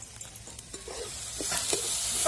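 Onion sautés in a pan for a quick fresh green chickpea chutney, a close, rising sizzle with a few soft stirring taps, no voices.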